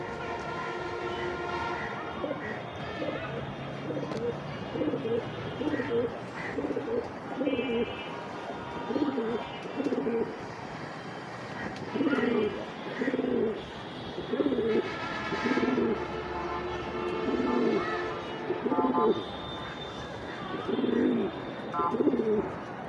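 Racing pigeons of a balloon marcel line coo in repeated rounded bursts, moderately close and steady, with a faint rumble underneath and no talking.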